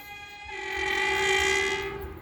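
An Alsthom diesel locomotive hauling a rapid passenger train through a Thai station sounds a long, sustained horn blast that swells louder as it nears and then fades, over faint rumbling of the passing train.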